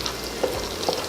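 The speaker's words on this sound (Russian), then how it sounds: "Лук я обжарил." Onions sizzle steadily in a thick-walled frying pan, a dense, even crackle with a couple of soft stirring knocks.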